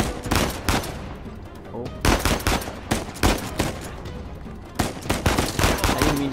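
Gunfire in the video game Uncharted 4 crackles in several loud bursts of rapid shots with short pauses between, close and punchy, while a player briefly exclaims.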